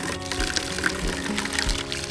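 Water being poured out for farm chickens and ducks on a hot summer day, a steady close splashing and gurgling stream with a few louder surges.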